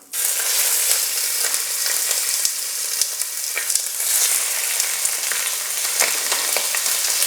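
Ox cheeks searing in hot oil in a pan, a loud, steady sizzle that starts abruptly and holds with crackling pops throughout, close and with no voices.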